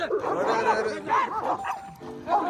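Several dogs bark and yip close by in short, excited bursts, mixed with voices and laughter.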